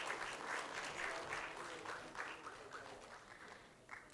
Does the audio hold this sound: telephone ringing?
no